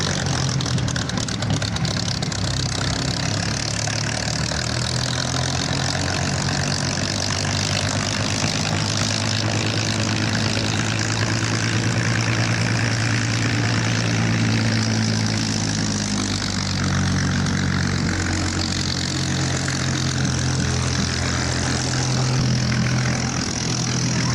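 A continuous aircraft engine drone during a taxi check runs steadily throughout, a loud low hum with slight shifts in pitch and no pauses or voices.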